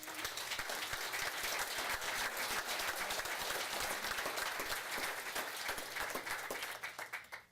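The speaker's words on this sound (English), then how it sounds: "Give him a round of applause." Sustained, crisp applause fills a city council meeting chamber as the audience claps for an honored community member, steady throughout before tapering off at the end.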